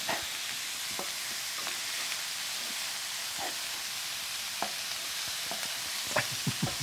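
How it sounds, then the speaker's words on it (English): Steady sizzle of food frying in a pan, punctuated by scattered knocks and scrapes of a wooden utensil stirring, close up with no speech. "Wooden spatula, getting thrown around. This sounds familiar."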